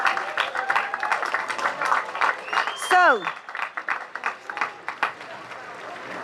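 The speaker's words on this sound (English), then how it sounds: "let's give a round of applause" A standing audience claps for educators at the Berkeley Institute graduation ceremony, a moderate, uneven round of applause with a voice speaking briefly over it and a short sliding tone partway through.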